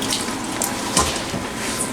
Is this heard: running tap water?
yes